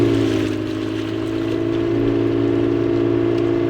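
The engine of a big trawler boat churns out a constant low, throbbing drone, close and loud, with a faint watery wash underneath and no talking.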